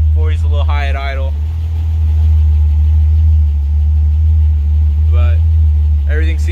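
BMW E30 with an M20 engine idling, a loud steady low rumble that continues throughout while someone talks briefly at the start and near the end.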